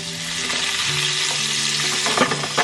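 Onions sauté in olive oil flavored by linguiça cooked first, a steady close sizzle with a few stirring scrapes toward the end and no one speaking.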